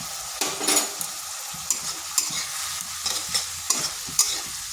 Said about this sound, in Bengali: একটু ভালোভাবে মশলাটা কষে নিচ্ছি